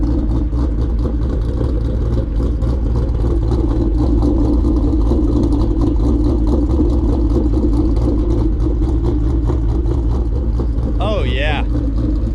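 A Ford Mustang GT 5.0 with a ghost cam and Lund Racing tune idles loudly up close, its uneven, pulsing lope throbbing steadily throughout, with voices faintly underneath.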